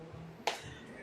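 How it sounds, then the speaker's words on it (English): A single clap from one audience member at a live magic show, a sharp isolated crack standing alone against quiet room tone. "Sort of. One little applaud. Yeah, singular applaud."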